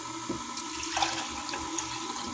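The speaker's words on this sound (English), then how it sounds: "And then I'm going to put the broth in. A cup of broth." A cup of broth is poured into a pot while making beef tamales, a brief close watery splash and gurgle that runs for a couple of seconds with no talk.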